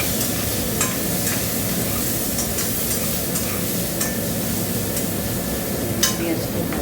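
Onions frying in a pan after fish has been fried, with a steady loud sizzle and scattered clicks and scrapes of stirring throughout, close up and with no talking.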